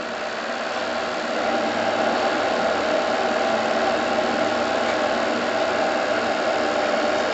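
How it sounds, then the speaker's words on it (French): Steam launch Topaz with its steam engine running as the regulator opens, a steady, dense mechanical chugging and hiss held at a constant loud level throughout, with no voices. "Et maintenant j'accélère un peu,"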